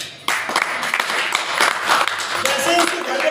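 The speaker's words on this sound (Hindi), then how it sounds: "शंभू सहानी के लिए तालियां होनी चाहिए" Audience applause for a speaker at a direct-selling business meeting, a dense wash of clapping starting abruptly and continuing steadily at moderate loudness, with voices mixed in.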